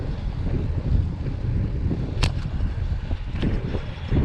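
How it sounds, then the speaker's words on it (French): Wind roars across a microphone during a bike ride on a cool 14-degree day. The rumbling buffeting is loud and continuous, with a few brief sharper gusts and no talk. "Et j'ai retrouvé le vent."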